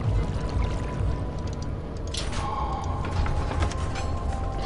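Water splashing and sloshing from water monsters in the horror video game Amnesia, a continuous wet, churning texture with a sharper splash burst near the middle, moderately loud and alone without talk.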